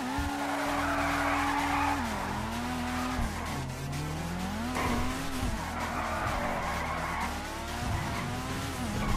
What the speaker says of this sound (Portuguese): o barulho do motor parece um pouco estranho, parece que é abafado